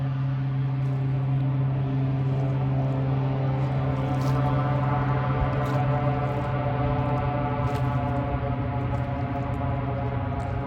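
A float plane flies in to land on Hood Lake in Alaska, its propeller engine giving a steady droning hum that stays even and fairly close throughout.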